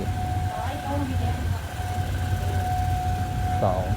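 A GEK diesel locomotive hauling an ordinary passenger train rumbles low and steady nearby in Thailand, with a sustained tonal whine and a brief rising squeal toward the end.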